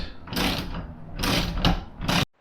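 Wrench or ratchet tightening two bolts on a roof rack mounting bracket during an SSO roof rack install on a Toyota, heard as a few close mechanical ratcheting bursts with short pauses between them.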